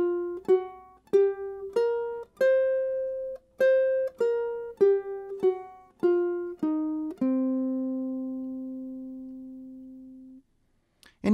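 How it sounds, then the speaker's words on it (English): A blues scale is plucked on a ukulele, about a dozen clear single notes stepping along one after another before the last note rings out and fades, played alone and close. "In the last lesson, you learned the blues scale, which sounds like this."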